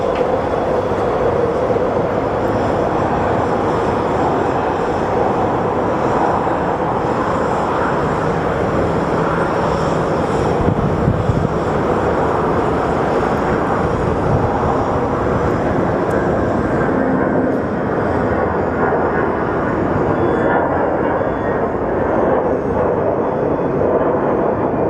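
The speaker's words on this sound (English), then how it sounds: "Okay, Dreamliner is coming on" A Boeing 787 Dreamliner at Sky Harbor airport produces a steady, loud, broadband engine roar that holds without letup for the full stretch, heard from a moderate distance with no talking.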